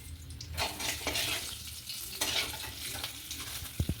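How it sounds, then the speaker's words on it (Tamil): Mustard seeds tossed into hot oil for tempering, a steady close sizzle and crackle with light stirring scrapes and a couple of faint pan knocks near the end. "நம்ம எண்ணெய் ஊற்றிக்கலாம். கடுகு போட்டுக்கலாம்."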